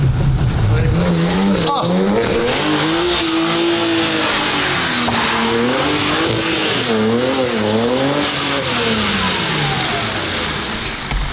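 A drifting car with a limited-slip differential screams through a long tire squeal and skid, its engine revving and wavering loudly and close throughout, with excited voices talking over it.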